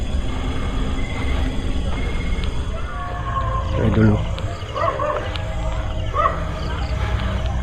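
Several dogs bark and yip at a middle distance outside a house, scattered over steady background noise and under talk.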